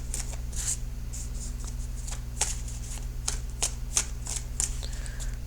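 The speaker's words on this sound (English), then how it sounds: "So I will shuffle the cards for just a few more seconds and then start the reading." Tarot cards being shuffled close up, a series of crisp riffling bursts repeating in a steady rhythm with no one talking.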